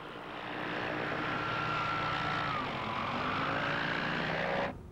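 A flexwing microlight aircraft flying in to land, its propeller engine a steady buzzing drone that swells in and holds close, with a slight pitch dip before cutting off abruptly.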